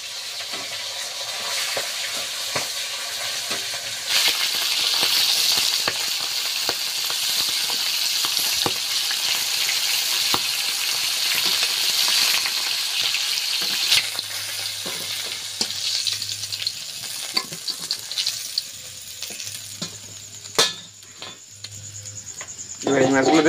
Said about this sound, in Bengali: মাছগুলো কি তেল ছিটকাচ্ছে, তাই না বলো?